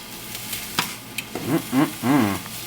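Food coated with Tabasco sizzles in a frying pan as it is stirred, with close scraping strokes and a few short, tonal squeaks or whines toward the end.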